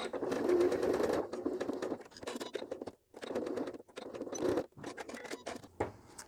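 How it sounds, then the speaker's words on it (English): A sewing machine stitches a fabric coin pocket into place, running in close, uneven bursts with brief pauses as the work is turned at the corners. "When you get to the corners, you can just turn it fractionally, give it an extra stitch, turn it again."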